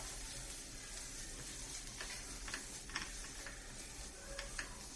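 Onions and egg fry in a non-stick pan for scrambled egg, a low continuous sizzle with a few soft ticking taps and utensil touches on top.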